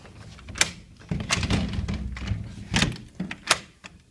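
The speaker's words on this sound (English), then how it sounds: "the track is just a little bit scratchy to open and close the door" A glass ranch slider door moves along a slightly scratchy track, giving several thuds and knocks with rough scraping rolls between them, close and moderately loud.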